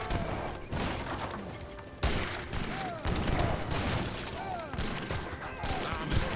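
Gunfire from musket-armed troops in a real-time strategy battle in Age of Empires 3, Ethiopian against Swedish forces: repeated crackling volleys and thuds over a busy battle din, arriving in bursts at irregular intervals.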